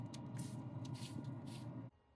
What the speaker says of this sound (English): I am going to now do the first spraying with the apple cider vinegar and apple juice blend.